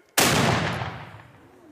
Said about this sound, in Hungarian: Ez az ágyú az emlékmenet során összesen 38 településen dörren meg a megyében.